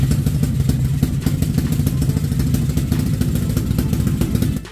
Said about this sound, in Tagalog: Ang nakikita ko na nga lang disadvantage sa motor na to ay yung kanyang maingay na tambucho.